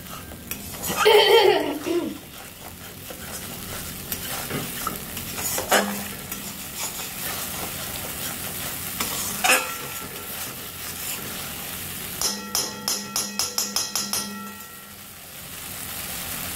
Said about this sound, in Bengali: এরপরে মশলাটা নাড়াতে থাকবো, না হলে তলায় ধরা লেগে যাবে।